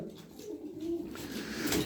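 Domestic pigeons cooing close by in a loft, a soft low repeated rolling coo over faint background hiss, with no talk.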